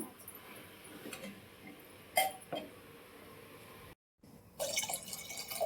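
Water splashes and trickles into a cooking pot of pav bhaji in short bursts, then a steadier, louder pour toward the end; close and fairly quiet overall.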